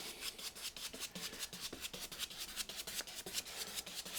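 A pencil or drawing tool scratches quick crisscross strokes onto paper in a fast, steady rhythm of short rasping rubs, close and quiet with no voices.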